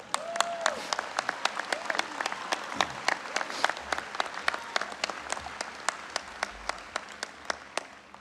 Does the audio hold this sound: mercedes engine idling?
no